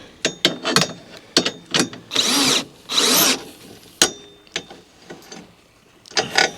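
A power drill bores paint out of the seat bolt hole on an Afikim mobility scooter, with two sustained whirring runs between a scatter of sharp clicks and clunks, loud and close.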